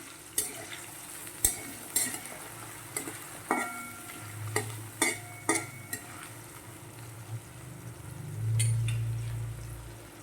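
Spoon stirring tadka dal fry in a cooking pot, a series of sharp scraping knocks and clinks against the metal at an irregular pace, with a low sizzle underneath and a steadier hum rising toward the end.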